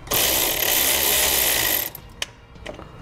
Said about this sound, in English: I'm going to take a 12 millimeter socket, I'm going to loosen the nut up on the top of the battery here.